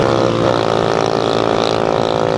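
A motorcycle exhaust roars steadily while riding, a loud, continuous buzzing engine drone that holds an even pitch throughout, close and unbroken.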